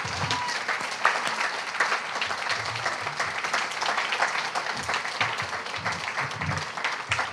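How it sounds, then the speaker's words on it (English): Sustained applause from an audience at a memorial poetry reading, with steady, dense clapping filling the room for several seconds at an even level and no speech over it. "One more big round of applause for these poets."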